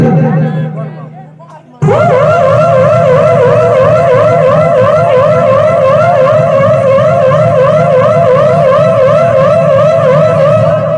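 A voice imitates a police siren: a loud, steady wail with a rapidly oscillating pitch kicks in after a brief quiet start and continues unbroken to the end.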